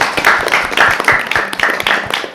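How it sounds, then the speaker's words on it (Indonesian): Schoolchildren at an Indonesian primary school clap together to welcome their headmistress, a dense, steady patter of small hands with rhythmic pulses, close and fairly loud, with no talking over it. "Mari tepuk tangan adik-adik"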